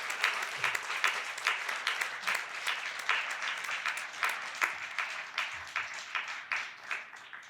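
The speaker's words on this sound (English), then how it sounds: "I just want to give Leymah and Yifat another round of applause, really." An audience claps after a panel conversation, a steady, fairly distant round of applause with dense overlapping hand claps that continues evenly for several seconds and then thins slightly.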